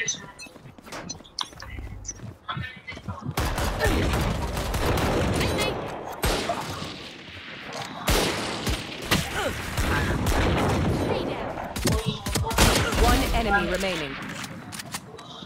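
Gun spraying fire in Valorant at short range: dense, rapid bursts of shots rattling close and loud, broken by brief pauses, with someone talking excitedly over the firing throughout.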